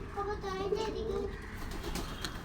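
Pigeons kept at home, one recently lost to an eye illness, coo steadily in a low rolling murmur throughout, with faint background voices and household noise.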